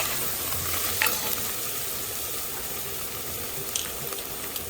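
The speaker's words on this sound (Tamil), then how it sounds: "அதையும் கொஞ்சம் நான் ஃபுல்லாக போட்டு நான் எண்ணெயிலேயே நல்லா வதக்கி தரேன்" Coriander leaves sauté in oil in a pan with a soft, steady sizzling hiss and a couple of faint scraping stirs, fairly quiet, with no speech.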